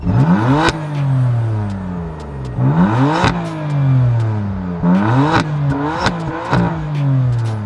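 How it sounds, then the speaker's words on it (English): A 2015 BMW M3 (F80) engine with stock exhaust revs hard several times in a row, each rev climbing sharply then falling back, loud and close with a raspy exhaust note. "So the exhaust on this is stock. It's not my favorite sounding, but take a listen"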